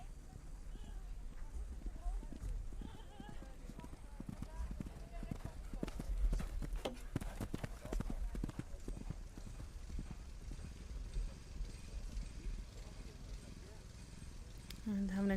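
Horses gallop across a cross-country eventing course at a young riders' European championship, their hooves drumming as a steady, muffled rumble under continuous commentary.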